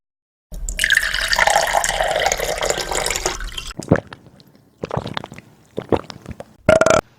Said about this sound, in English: what do you do when your beer is pouring like this and it's got far too much foam?